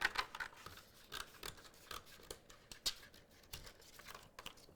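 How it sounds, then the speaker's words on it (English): Scissors cutting excess vinyl backing during a Cricut notebook craft, a faint series of close, crisp snips and light crinkling paper rustles in an irregular rhythm, with no talk. "I'm going to grab my scissors, cut off this excess backing, just so it's all out of the way."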